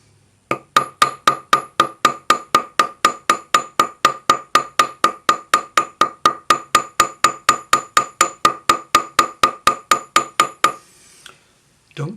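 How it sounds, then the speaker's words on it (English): A small jeweler's hammer strikes metal earring wire again and again, about forty sharp, evenly spaced ringing blows close by, then stops abruptly. "take your jeweler's hammer or your little cross pane, and we're going to texture it"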